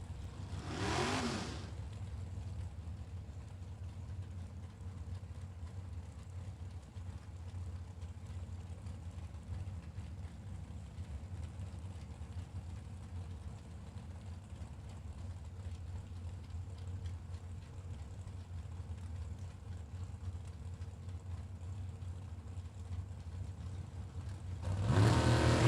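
Drag racing dragster engines at a Super Pro bracket event drone as a low, steady rumble for a long stretch, with louder revving bursts at the start and end, heard from a distance.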